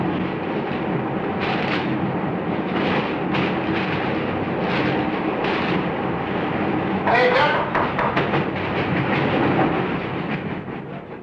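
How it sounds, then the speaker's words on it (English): The Tea and Sugar Train rumbling across the Nullarbor Plain desert, a continuous heavy roar with rhythmic clattering of wheels over rail joints, loud and close throughout. "As the train thunders on its journey"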